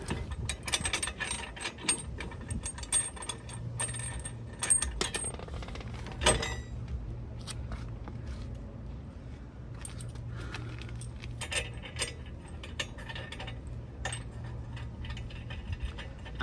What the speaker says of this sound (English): Put a washer and a lock nut at the bottom.